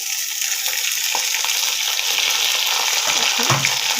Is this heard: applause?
no